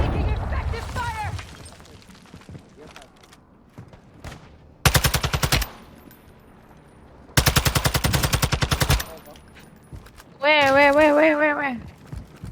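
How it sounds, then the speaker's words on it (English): Automatic weapons fire in the Warzone 2.0 video game comes in two loud sustained bursts. Voices are heard before and after the gunfire. "Taking effective fire!"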